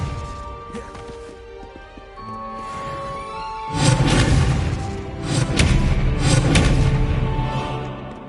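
A spell cast in the video game Hogwarts Legacy: after a spoken incantation, a sudden loud magical burst erupts with booming crashes and crackling impacts that swell and linger over game music.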